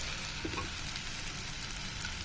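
Onions and ginger garlic paste frying in a pan for pav bhaji, a soft continuous crackling sizzle with a faint clink or two, low and steady with no voices.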